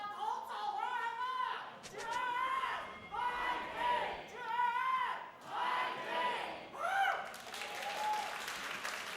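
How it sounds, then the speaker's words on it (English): An esports arena crowd at the League of Legends LCP Season Finals applauds and cheers in waves, with rhythmic chanting, under steady commentator talk. "Here in game 4 of the night, the crowd still keeping up the energy."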